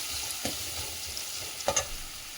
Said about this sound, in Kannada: ಒಂದು ಈರುಳ್ಳಿ ಹಾಕಿಬಿಟ್ಟು ಸ್ವಲ್ಪ ಬಾಡಿಸೋಣ